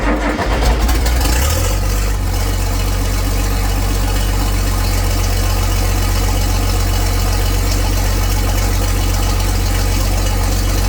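A diesel tractor engine cranks on a cold, near-freezing day, catching after a couple of seconds of rough turning, then settles into a loud, steady, close-up rumbling idle.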